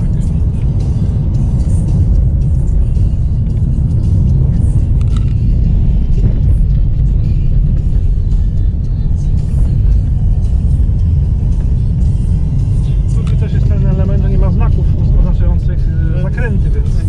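Car driving fast through winding curves on a rural road near Belogradchik, Bulgaria, loud continuous engine and road rumble throughout, with people talking over it.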